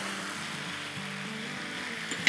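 Soy sauce sizzling in a wok of chicken pepper steak stir fry: a steady, fairly quiet hiss of frying that holds evenly throughout, with a small clink at the very end.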